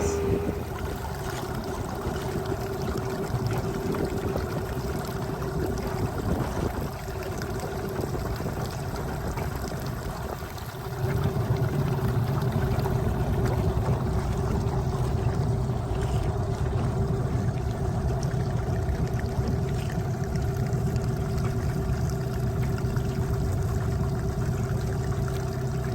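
A boat named Chief runs on open water with a steady engine drone and water washing against the hull. The sound holds a constant level for the whole stretch and grows fuller and louder about halfway through.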